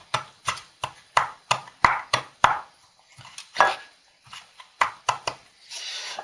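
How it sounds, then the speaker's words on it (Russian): A knife chops pepper finely on a board, with a run of quick, sharp, close strokes in uneven bursts and a brief pause in the middle, while a pepper sauce for grilled pork is being prepared. "Перец стараемся нарезать мелко."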